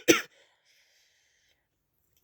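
A person with a painful illness coughs twice, one sharp close cough at the start and another at the end, separated by near silence.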